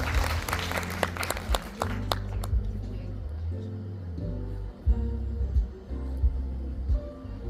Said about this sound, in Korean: 박수 한번 주세요. 박수.